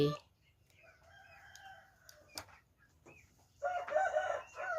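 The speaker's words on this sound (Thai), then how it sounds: "เสียงข้างบ้าน ไก่ข้างบ้านจ้า" A neighbour's rooster crows from a distance at a rural Thai backyard layer-hen coop, a drawn-out crow followed by clucking, moderately faint with background noise.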